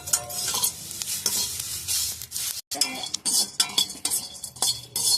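Spices for Bangalore-style sambar powder roast in a pan with a light sizzle, punctuated by frequent scraping and clinking of a spoon stirring against the metal, close and busy throughout.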